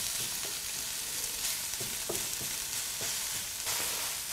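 Soy meat chunks browning in a pan on a lowered stove: dense, even hiss of frying oil with soft stirring knocks scattered through, steady and close, no talking.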